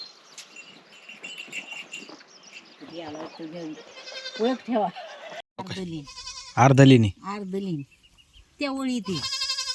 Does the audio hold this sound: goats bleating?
yes